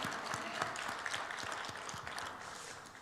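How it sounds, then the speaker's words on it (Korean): Church congregation applauding at a New Year's Eve worship service, with a steady, moderately faint wash of clapping and a few sharper claps standing out. The clapping continues throughout without voices. "하나님께 박수로 영광을 올려드리기를 원합니다"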